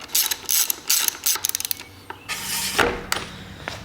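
A hand ratchet tightens the front brake caliper bolts on the inverted front fork of a 2019 Honda CRF110, giving close, crisp clicking bursts in a quick rhythm with short pauses, then a few slower strokes.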